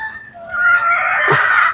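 A rooster crows once, a loud, close, drawn-out call rising and holding for nearly two seconds, alone without talk.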